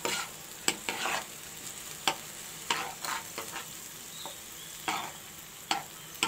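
Tomatoes fry in oil over a high flame for beef chutney, with a steady sizzle broken by regular scraping stir strokes from a spoon against the pan.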